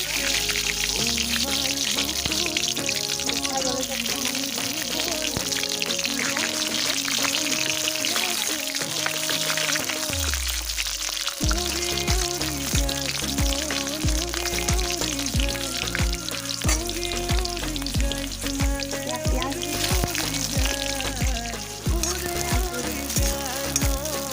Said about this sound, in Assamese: তেল গৰম হৈ গ'ল, ফোৰণ অলপ দিছোঁ